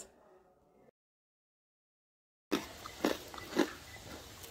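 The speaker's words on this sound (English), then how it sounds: "This snack is actually so crunchy. Listen, let us have a taste." Crunchy bites into a fried snack made of flour, salt and water: three or four distinct close crunches, each followed by chewing, after a brief silence.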